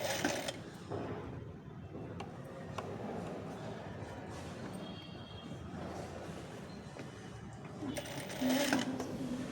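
A sewing machine runs steadily, stitching a princess-cut boat-neck blouse, its fast mechanical whir continuous and close with a brief louder burst near the end.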